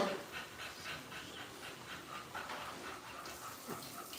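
A short-legged dog pants quietly in quick, soft rhythmic breaths close by, with faint whimpery edges and no talking over it.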